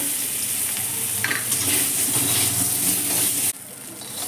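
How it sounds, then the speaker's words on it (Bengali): Potatoes fry in a pan of hot oil left over from frying eggs, giving a dense, continuous sizzle and crackle at close range that drops off slightly just before the end. "ওই তেলেই আমি আলুগুলো ভেজে নেব।"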